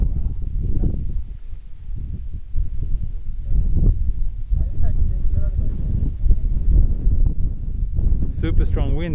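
Strong wind on Mt. Aso buffets the microphone in heavy, low rumbling gusts that rise and fall throughout, with someone speaking briefly near the end.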